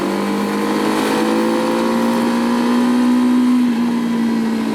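A Zongshen RX3S motorcycle accelerating smoothly, its engine note rising steadily in pitch without jerks, loud and close with a continuous hum and no talking.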